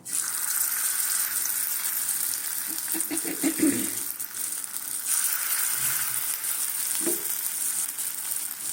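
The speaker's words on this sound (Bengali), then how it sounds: "কড়াতে তেল দিয়ে তেলটা গরম হয়ে গেছে, এবারে যেমন বড়ার মতন হয় ওইভাবেই দেব" Potato fritters made with gime shak greens sizzle in hot oil in a wok, a steady bubbling hiss that swells in brief louder bursts as more batter drops in.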